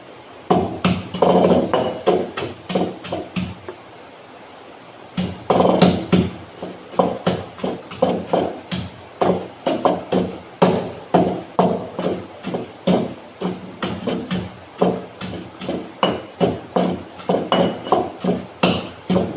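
A pestle pounds spices in a mortar while tofu is being prepared, giving a steady series of sharp, close thuds. The pounding pauses briefly, then resumes at an even, rhythmic pace.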